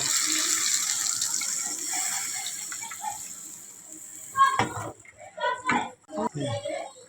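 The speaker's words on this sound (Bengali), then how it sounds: "এখন জল দিয়ে দিব" Water poured into a pan of browned fish curry, a steady hissing splash filling the pan for several seconds before breaking into irregular sizzling bursts and clatter; a voice is faintly present.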